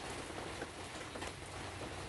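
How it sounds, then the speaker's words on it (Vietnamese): Heavy rain pours down steadily outdoors as a continuous, even hiss with no voices, a dense wash of falling water. "Các bạn thấy trời mưa quá trời luôn nha."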